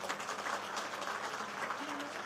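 Audience applause at a laptop and tablet distribution event in India, a dense steady patter of clapping hands heard from a distance, moderately faint throughout.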